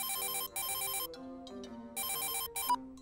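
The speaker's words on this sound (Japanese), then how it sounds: "携帯電話。" A mobile phone rings with a bright electronic ringtone, two loud repeating bursts separated by a short melodic phrase, close and clear with no talking.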